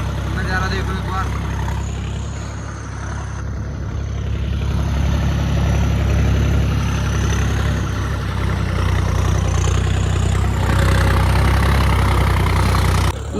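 Tractor engines idle and rumble on a sandy Yamuna riverbank during a sand-hauling trip, a loud continuous low drone close by, with people talking over it.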